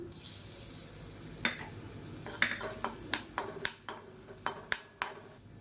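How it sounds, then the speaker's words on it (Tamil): A few lumps of asafoetida fry in oil in a kadai, with a soft sizzle under a run of sharp metallic clinks and scrapes from a utensil that grow louder and more regular toward the end. "இப்போ அதே கடாயில் ஒரு அஞ்சாறு துண்டு கட்டி பெருங்காயம் பொரிய விட்டு எடுத்துக்கலாம்"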